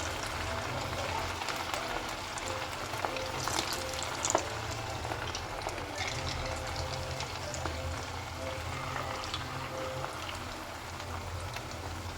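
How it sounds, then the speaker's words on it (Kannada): Mutton kababs fry in oil over a medium flame with a steady, moderate sizzle and crackle and a few sharp pops, with no voices. "ಎಣ್ಣೆ ತುಂಬ ಕಾದಿರಬಾರ್ದು, ಮೀಡಿಯಮ್ ಫ್ಲೇಮಲ್ಲಿ ಇಟ್ಕೊಂಡು ಕಬಾಬನ್ನು ಮಾಡ್ಕೊಳ್ಳಿ"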